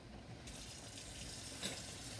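Water pours steadily from a container into a pot of thickening beef stew, a continuous soft splashing rush with no talking.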